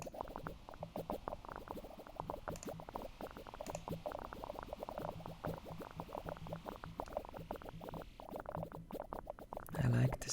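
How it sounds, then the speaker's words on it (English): Bubbles bubble in the management game Game Dev Tycoon, a soft, steady stream of rapid popping blips that patter on continuously, with a louder burst near the end. "I like the sound that these bubbles make."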